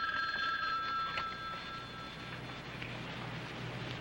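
A telephone bell rings indoors, a steady electronic trill that is fairly faint and lasts throughout, with a low hum underneath. No one speaks.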